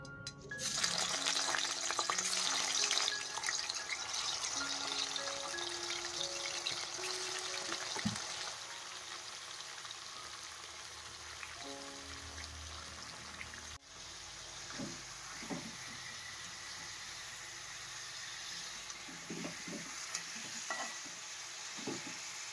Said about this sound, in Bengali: চিকেনটা আমি হালকা লবণ আর হলুদ মাখিয়ে রেখেছিলাম, তো সেটা আমি ফ্রাই করে নিচ্ছি